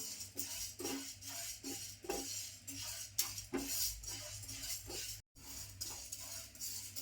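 Urad dal and grains dry-roasting in a pan for Malvani vade flour, with a utensil scraping and stirring in steady repeated strokes over a continuous faint sizzle, close and moderately loud.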